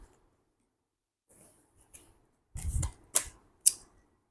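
Tarot cards are shuffled in short bursts, a rustling riffle followed by a few sharp snaps and taps of the deck, close and fairly quiet with no talking.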